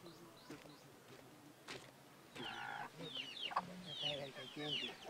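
Several chickens cluck and squawk nearby in irregular bursts over a quiet background hum.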